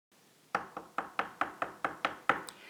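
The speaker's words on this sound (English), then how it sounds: "Just as his wife leaves, Macbeth hears knocking." A door is knocked eight times in a steady, even rhythm, each rap sharp and close with a short ring after it, against a quiet background.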